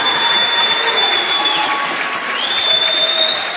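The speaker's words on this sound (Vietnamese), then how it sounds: "May the people of God give him an applause tonight." A church congregation at a revival gathering claps in sustained, dense applause, loud and continuous throughout, with faint cheering and held musical tones underneath.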